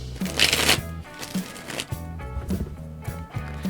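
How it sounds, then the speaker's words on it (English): Playing cards are riffled and bridged several times, each shuffle a quick papery flutter followed by soft taps, close and quiet. "I like shuffling cards. It's so calming."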